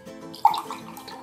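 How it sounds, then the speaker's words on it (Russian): Blackcurrant and raspberry mors drink is poured from a freshly opened bottle into a glass, giving a short splashing, trickling liquid sound close by for about a second. "наливаем."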